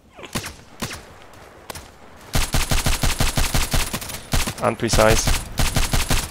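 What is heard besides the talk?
DT SRS mk.2 rifle gunfire in video game Contract Wars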